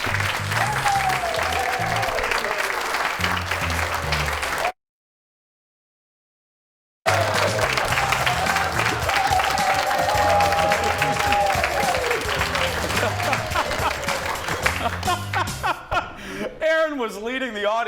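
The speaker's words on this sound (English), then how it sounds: "came right back from commercial, clapping perfectly" A studio audience at a talk show claps and laughs after a commercial break, with loud, sustained applause and chuckles and speech mixed in, followed by a brief silence, then more clapping before music swells at the end.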